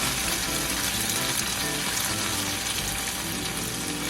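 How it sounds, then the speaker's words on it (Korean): Tomato sauce poured into a hot pan over low heat for meatball conchiglie pasta, instantly sizzling and bubbling; a dense, loud, continuous hiss close by with no speech. "보세요. 소스를 넣어도 바로 끓어오르죠?"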